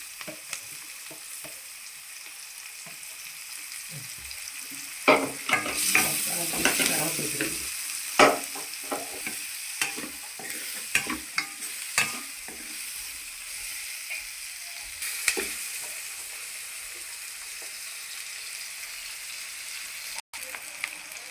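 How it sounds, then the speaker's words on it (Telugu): Onion pieces sizzle and fry in a pan, a steady hiss broken by bursts of stirring and scraping in the middle, close and fairly quiet with no talking. "ఇందులోని ఉల్లిపాయ మొక్కలు వేపుకుందాము"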